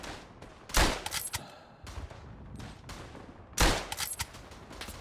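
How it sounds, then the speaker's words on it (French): Rifle shots in the trench warfare game Verdun, two loud sharp cracks about three seconds apart, each with a rolling echo, amid scattered distant gunfire. "Je tire dans le doute là"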